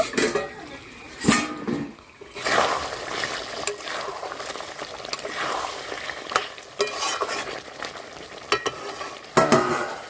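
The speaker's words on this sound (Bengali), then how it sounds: "এদিকে মাংসটা একটু নেড়ে দেব।" Chicken being stirred in a pan while cooking for chicken kosha, with scraping stir strokes and a steady frying sizzle, close and moderately loud, broken by a few sharper bursts.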